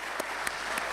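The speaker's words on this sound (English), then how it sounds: "Let's welcome him with a huge round of applause" Audience applause welcomes the Chairman, Managing Director and CEO of Kratikal Tech Limited at its BSE listing ceremony: a brief, steady wash of many hands clapping, fairly faint and without speech.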